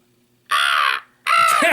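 A human voice imitates a dragon noise in a tabletop game, producing two loud, harsh crow-like caws separated by a short pause.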